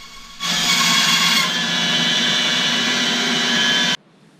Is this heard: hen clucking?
no